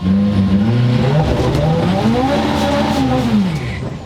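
A 515-horsepower rear-wheel-drive Honda Civic race car engine revs loud and close on a track, its pitch sweeping up and down repeatedly as it accelerates and shifts, with no voices.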